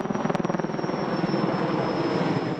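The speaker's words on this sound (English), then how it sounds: "The Huey chopper and off the coast the massive Ericsson heli-tanker sucking up seawater" A firefighting Huey helicopter and a large Erickson heli-tanker drawing up seawater during an Australian bushfire produce a steady loud rotor roar with rhythmic blade thumping, continuous and fairly near, with no voices.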